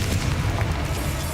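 A fire spell explosion bursts with a deep, booming roar in a Hogwarts Legacy fight, loud and sustained, with no voices over it.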